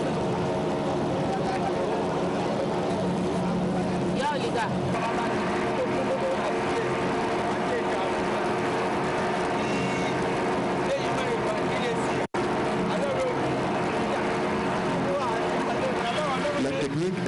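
A river boat's outboard motor drones steadily and loudly throughout, a continuous engine hum with water noise and a brief dropout near the end.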